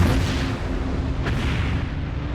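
A planet blowing apart in space: a deep, continuous rumbling roar like a distant explosion, loud and sustained, with a sharper burst partway through.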